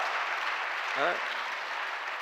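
A Korean Presbyterian congregation at Seobu Church claps in thanks to God during a 2010 Liberation Day Sunday service. The applause is steady and moderately loud, and a voice briefly rises above it midway.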